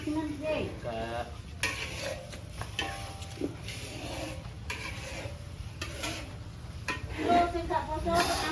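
Tempeh fries in a pan with a steady sizzle, mixed with utensil scrapes and stirring clatter against the cookware, while people chat nearby in Javanese.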